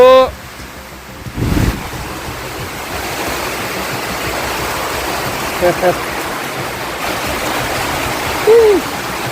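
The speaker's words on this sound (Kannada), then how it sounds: "ಈಗ ನೋಡ್ರಿ ಜೋರಾದಂಥ ಮಳೆ" Heavy monsoon rain in Jamkhandi roars as a constant broad wash of noise, with a brief voice near the start and a few faint sounds breaking through later.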